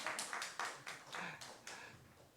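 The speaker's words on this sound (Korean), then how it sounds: "우리 경배와 찬양팀에게 큰 박수 한번 치고 시작할까요?" Scattered, sparse claps ring out at a church Tuesday prayer meeting, a few separate sharp hits spaced unevenly and fairly faint, like a small group starting to clap for the worship team.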